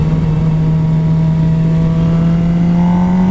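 A motorcycle engine holds a steady, loud revving drone while the bike rides a wheelie on a road, its pitch climbing slightly near the end, with no talking.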